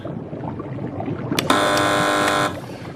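After a short click, a loud harsh buzzer blares for about a second, then cuts off, with quiet room noise before and after, on a TV quiz show.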